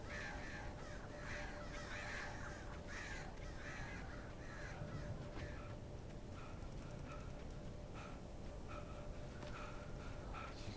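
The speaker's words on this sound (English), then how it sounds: "Get away from me, birds." Crows caw repeatedly in the Alan Wake video game, harsh calls rising and falling over a steady outdoor ambience, moderately near, with no speech.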